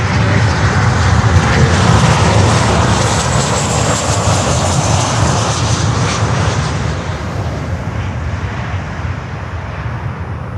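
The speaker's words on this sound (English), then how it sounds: "That's American Airlines 737-800 from Buenos Aires." American Airlines Boeing 737-800 jet at Miami airport: a loud, broad engine roar that fades gradually as the aircraft moves away, with no voices over it.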